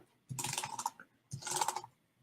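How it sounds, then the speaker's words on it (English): A computer keyboard is wiped clean with cleaning spray. The keys clatter in two short, close bursts separated by a brief pause, with no voices. "you don't need a whole lot of cleaning spray to clean off your keyboard"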